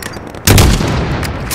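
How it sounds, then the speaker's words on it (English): Gunfire erupts in Call of Duty Modern Warfare on the Highway of Death mission, a sudden loud, close burst after a brief quieter lead-in that keeps roaring with heavy booming shots. "Open fire!"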